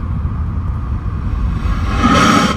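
A Shelby Daytona cruising at roughly 40 mph, its steady low engine and road rumble filling the cabin and swelling slightly louder near the end, with no one talking.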